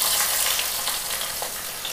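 Chopped shallots fry in coconut oil with mustard seeds, making a constant close hiss and sizzle with light crackling and no voices.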